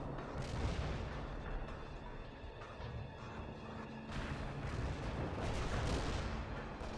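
Artillery fires a fire mission in World in Conflict against attacking Russian forces, a quiet, distant rumble of booming shots and crashing impacts rolling on continuously, with a heavier salvo in the second half.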